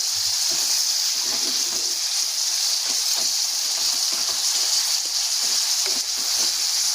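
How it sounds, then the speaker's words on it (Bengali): Water hitting a hot pan of beetroot and paneer in poppy-seed paste, a steady loud hiss of steam and bubbling that holds for the whole stretch, with small crackles underneath and no voices. "এবারে জল দিয়ে দিলাম"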